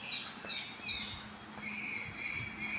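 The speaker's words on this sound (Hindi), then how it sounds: "ये चिड़िया की आवाज़ है।" Small birds chirp and squawk near the ablution area of a mosque, faint high calls repeating in short bursts over quiet background hum.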